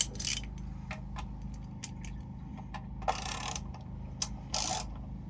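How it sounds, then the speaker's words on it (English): A ratchet tightens the valve cover bolts on a 5.7 Vortec V8 in a 1983 Silverton 34C boat. Bursts of close, quiet clicking come in irregular short runs, separated by brief pauses. "Then take the ratchet."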